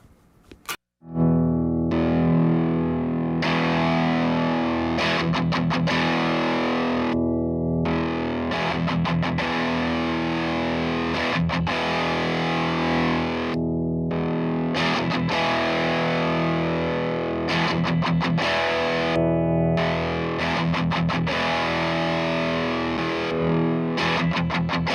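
An electric guitar runs through a Barber Edge Hog distortion pedal, played as loud, thick, sustained distorted chords with brief pauses between phrases, steady and close with no talking.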